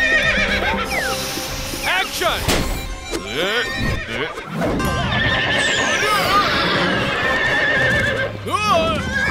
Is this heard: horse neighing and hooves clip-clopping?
yes